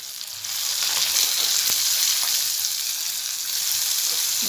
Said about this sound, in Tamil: நல்லா ஒரு நிமிஷம் ஃப்ரை ஆகட்டும்.